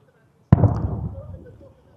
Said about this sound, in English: That was a huge explosion.